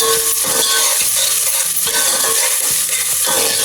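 Loud, continuous sizzling of tomatoes frying in a pan for Goan beef curry, punctuated by regular scraping stirs of a spoon, with no talking.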